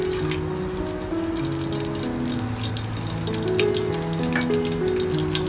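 Spices frying in hot oil for mutton chops, a continuous close sizzle and crackle with a steady hiss throughout and no talk.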